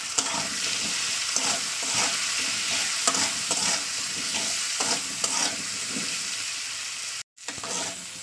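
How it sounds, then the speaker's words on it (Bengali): Potatoes coated in salt and turmeric fry in a pan, a dense, steady sizzle with rhythmic stirring scrapes every second or so, close and loud, briefly cutting out near the end. "দেখতে পাচ্ছেন লবণ হলুদে আমি আলুটাকে প্রায় দু থেকে তিন মিনিট ভাজা করে নিয়েছি"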